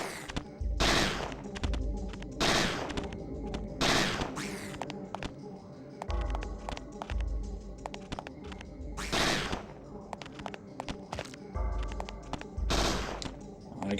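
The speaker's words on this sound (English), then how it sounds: "Try to use our gun to take them down." Repeated bursts of gunfire from the survival horror game Parasite Eve 2, loud and close, firing in separate volleys every second or two over a low game soundtrack.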